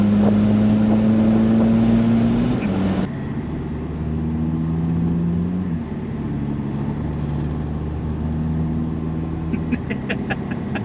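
A tuned VW Jetta TDI diesel engine drones loudly from inside the moving car, its pitch climbing and then dropping through gear changes, with steady road and wind noise beneath.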